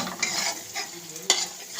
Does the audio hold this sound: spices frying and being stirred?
yes